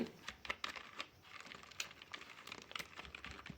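Someone types a web address on a computer keyboard while filling in a Facebook account-recovery form: quiet, uneven runs of light key clicks spread across a few seconds, with no voice.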